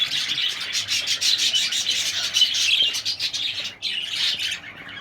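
Baby birds chirp and squawk continuously from inside a nest box, a dense, close chorus of high, rapid begging calls with a brief lull near the end.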